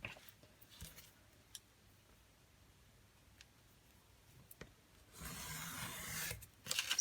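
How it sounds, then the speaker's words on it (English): Journal paper pages being cut down, mostly quiet with a few small scrapes and taps, then a sustained rasping cut of about a second near the end, close and moderately loud. "I think we'll just cut it down this time."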